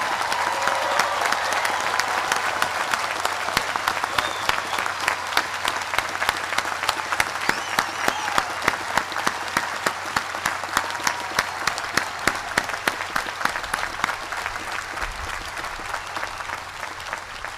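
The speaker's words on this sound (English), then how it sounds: "join me once again in saluting with applause the graduates" Sustained applause from a large audience saluting the graduates of the U.S. Naval War College class of 2019 at their June graduation ceremony, steady dense clapping that holds at an even level throughout.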